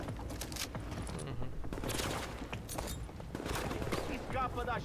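Gunfire in The Division co-op gameplay, including sniper shots, rattles through a busy mix of repeated shots and mechanical clatter, with voices talking over it.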